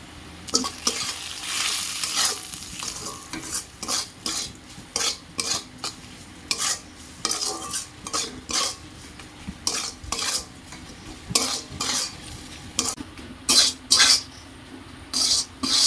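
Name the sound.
frying and stirring chili, cumin and coriander spice paste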